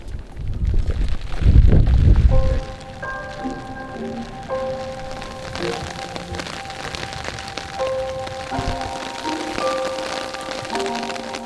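Rain and gusty wind at the Is Benas pond during feeder fishing: heavy wind buffeting roars at first, then eases into a steady patter of rain, with faint sustained tones running underneath.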